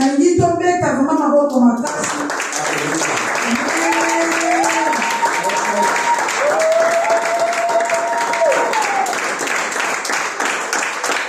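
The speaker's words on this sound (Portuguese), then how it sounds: "Deixa eu pedir uma salva de palmas." Church congregation at a Sunday service applauding, a steady dense wash of clapping lasting throughout, with a sung or held melodic voice and a brief spoken voice at the start over it.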